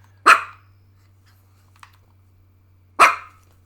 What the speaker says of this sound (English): You just get ridiculed with barks.